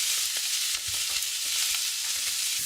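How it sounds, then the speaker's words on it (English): Bacon frying in a hot pan, a steady broadband crackle with soft scattered pops and occasional scrapes close by, no voices. "So let's get the bacon in."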